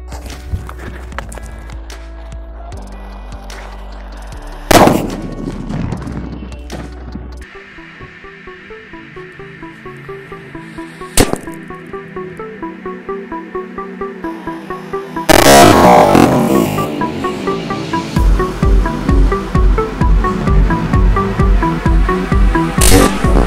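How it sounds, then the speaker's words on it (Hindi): A sutli bomb firecracker blasts under a coconut during a Diwali experiment: a sharp loud explosive crack, then another bang later and a sustained noisy burst with rhythmic pulses, set over background music. "तो भाई धमाका इतनी ज़्यादा तेज हुआ था कि यार एक पल के लिए तो यार कान के पर्दे एकदम हिल से गए थे"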